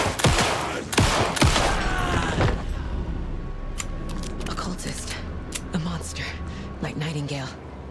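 Gunfire in Alan Wake 2 comes as a quick burst of sharp, loud shots early on, then scattered clicks and mechanical clatter over a dark, droning backdrop, with a voice talking.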